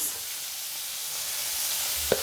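Spice paste of turmeric, chili powder and cumin powder frying in a pan for a prawn and taro dish, giving a steady close hiss and sizzle throughout, with a brief clink near the end.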